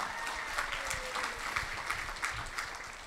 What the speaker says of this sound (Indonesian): Kalau setuju beri tepuk tangan untuk Anda semua